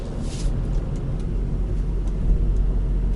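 A car engine rumbles low and steady while driving slowly in an underground parking garage, then swells briefly as it is revved about 1000 rpm for a double-clutch downshift into a lower gear.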